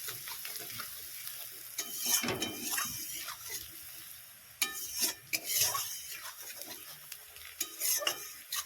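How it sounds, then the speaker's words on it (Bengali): Onions fry in a pan, sizzling close by while a utensil stirs and scrapes against the metal in irregular bursts, with a couple of louder clatters of utensil on pan. "পেঁয়াজটাকে একটু ভেজে নিয়ে আমি রসুনটাকে দিয়ে দেবো"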